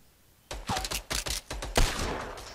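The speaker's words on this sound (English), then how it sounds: "He's shooting at us." Bursts of rapid gunfire in Fortnite Battle Royale, several sharp shots and short volleys in quick succession, loud and alone over a quiet background.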